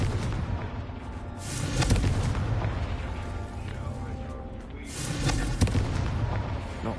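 A Confringo spell explosion in the Hogwarts video game booms with dense, sustained rumbling and crackling blasts layered over game ambience.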